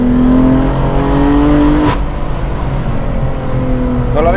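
A BMW M4 fitted with an equal length exhaust revs hard while driving, loud and close from inside the car, with a sharp gear shift partway through and the engine pulling back up afterwards.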